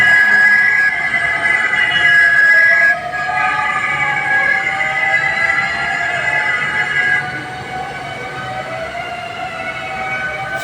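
Fire truck sirens wail from vehicles stuck in a narrow, congested street, the steady tones loud and close for several seconds before easing somewhat, over a constant traffic rumble.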